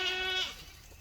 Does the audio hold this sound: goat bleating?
yes